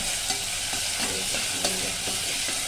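Ginger-garlic paste and tomato sautéing in a pan, with a continuous close sizzle and intermittent scraping stir strokes, no voices over it.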